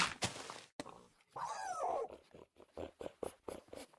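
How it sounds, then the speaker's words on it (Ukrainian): Wolves in the Minecraft video game yip, whine and growl in short bursts, with one longer sliding whimper in the middle, close and fairly clear without speech. "О, звуки вовки такі прикольні."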